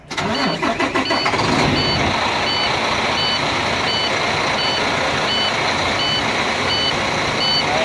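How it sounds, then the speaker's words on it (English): Regular high-pitched low air pressure warning beeps from a truck repeat steadily over the loud, continuous rumble of its large engine, just started up with no air in the tanks. "it's beeping at me, let me know that there's no air in the tanks"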